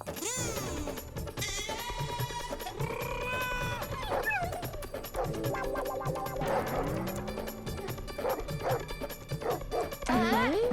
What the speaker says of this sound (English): He brought a dog even bigger than our dog.